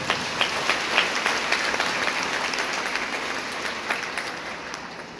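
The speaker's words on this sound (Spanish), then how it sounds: "Demos palmas al Señor." A church congregation applauds during a sermon on the Assumption of Mary, a steady wash of many hands clapping at moderate distance, with a few sharper claps near the start and no talking over it.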